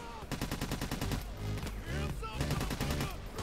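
Sustained rapid automatic gunfire during a heist in the game Payday 2, steady loud rattling bursts with barely any pause, and a voice speaking over the shooting.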